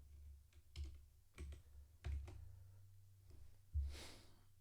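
Keystrokes on a new computer keyboard during programming work, with a few irregular, fairly close taps and clacks spaced out over a low background hum, one louder keypress near the end.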